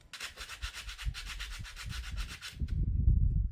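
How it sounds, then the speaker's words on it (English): Light hand sanding of wood, a steady run of quick rhythmic scratchy back-and-forth strokes, close and fairly soft, stopping abruptly before a low rumble of background noise. "But I'm just going to give them a light sand."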